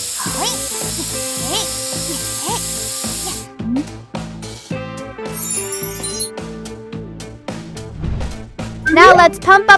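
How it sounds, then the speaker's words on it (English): A cartoon tire gets sprayed with anti-crack coating: bright hissing bursts and sparkly chimes ride over bouncy background music, with cartoon voices talking in places. "And spray anti-crack coating."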